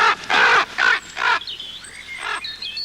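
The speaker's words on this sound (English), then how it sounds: "The raven gave one more croak." A big black raven, in a cartoon adventure setting, croaks four times in loud, harsh bursts, then thin whistling calls drift over a quieter background.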